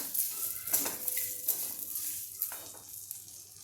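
Chili flakes and black pepper are stirred into a chivda tempering in a pan, a soft close sizzle broken by light scrapes and clinks of a spoon against the metal.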